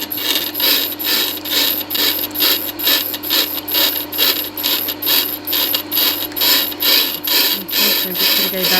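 A Tormek grinding wheel is trued with the TT-50 jig, giving a continuous loud scraping grind with a regular pulsing rhythm as the wheel turns and the cutter passes across it, with no voices heard.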